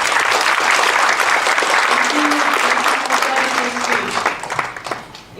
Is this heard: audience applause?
yes